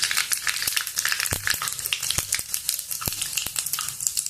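Mustard seeds, cumin and fenugreek sizzling in hot oil, a close bright hiss broken by sharp popping crackles at an irregular rhythm, no voices.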